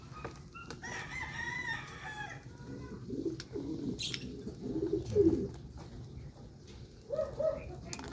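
Racing pigeons cooing close by in soft bursts, with scattered rustling and shuffling around them.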